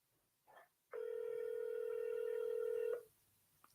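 A telephone rings out on an unanswered cold call: a single steady two-second ring tone heard through the handset, faint and quiet, with brief soft noises before and after.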